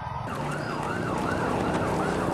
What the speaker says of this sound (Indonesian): puluhan ambulans bekerjaran dengan waktu membawa para siswa secepatnya ke Rumah Sakit